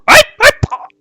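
A human voice imitates dogs barking and yelping in a kitchen: two sharp, close barks followed by a short, higher yelp that trails off, all within about a second.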